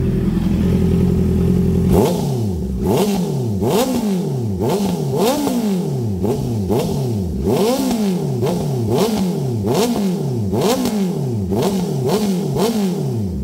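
A motorcycle engine fitted with a dB killer revs repeatedly at close range, rising and falling in quick blips after a steady idle, loud and alone with no talk.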